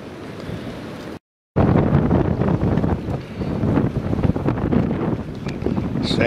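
Strong wind roars across the mic over Cook's Bay, where thin, poor spring ice is being pushed along by the gusts; a loud, continuous rushing with a brief dropout near the start.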